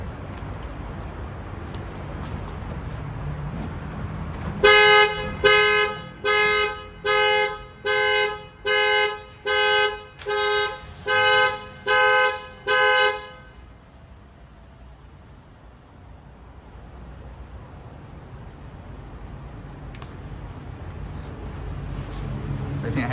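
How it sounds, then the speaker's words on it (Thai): A car's anti-theft alarm sounds after a remote unlock, honking in a steady run of about nine loud, evenly spaced blasts that then stop, leaving quiet background. "สัญญาณการขโมยเนี่ยมันจะร้องแน่นอน"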